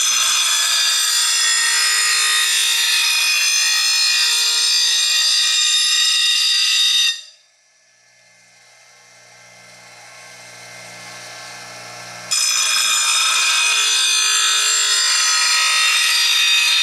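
Bench grinder sharpening a Honda 4518 lawn tractor mower blade, loud steady harsh grinding in two long passes separated by a quieter stretch where the wheel spins down and hums before grinding resumes; no talking.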